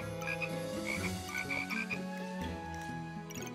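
Toad item croaking in the game Backpack Battles, a rhythmic series of close, bright ribbed croaks layered over a tonal game music backdrop.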